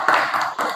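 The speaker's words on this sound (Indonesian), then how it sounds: "Beri tepuk tangan dulu." Classroom applause from pupils, a short burst of clapping lasting under a second with a brief dip midway, fairly loud and close with no talking over it.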